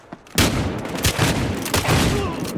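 Rapid shotgun blasts in the multiplayer shooter Battlefield Hardline, a close burst of loud booming shots in quick succession over dense game noise.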